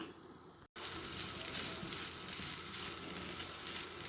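Bean thoran with ground spice paste sizzling in a pan as it is stirred, a steady, close frying hiss after a brief cut near the start, with no voices.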